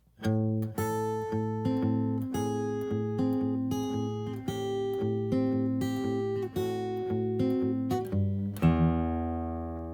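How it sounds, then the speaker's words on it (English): An acoustic guitar picks a steady run of notes over a sustained bass, then lands on a full chord that rings out. "So that last chord sounds like this."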